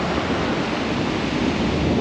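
Heavy sea surf breaking continuously along a bass-fishing shoreline near high water, a dense, loud, steady wash of crashing waves with no pauses and no voices.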